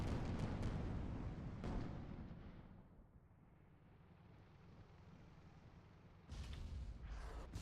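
A Lesmont Gatling gun fires in a multiplayer video game match: rapid, loud bursts, a lull of quieter rumble, then the rattling fire resumes.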